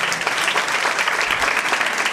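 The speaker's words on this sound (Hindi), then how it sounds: "जोरदार तालियां" Loud applause from a gathered audience cheering a dancer at a devotional event, dense continuous clapping with scattered individual claps standing out, sustained for a couple of seconds with no voice over it.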